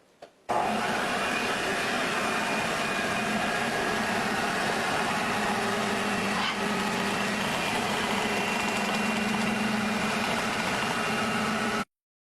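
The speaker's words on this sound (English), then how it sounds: "Okay, so I'm going to turn on the Van de Graaff generator." Van de Graaff generator switched on to drive an electrostatic linear motor, a steady loud motorized whir with a constant hum that starts abruptly and runs unbroken for about eleven seconds before cutting off, no talk.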